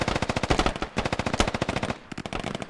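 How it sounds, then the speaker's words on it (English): Heavy gunfire from the military video game Squad: rapid, loud automatic bursts rattle almost without pause, with a brief gap before another fast string of shots. "They're starting to return a lot of fire."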